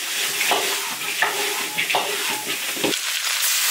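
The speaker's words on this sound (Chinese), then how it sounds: "然后下鸡跟甲鱼， 把鸡肉煸着玩。" Chicken and soft-shell turtle stir-fried in a large iron wok, a steady loud sizzle broken by repeated scraping strokes of the spatula, close up with no voices.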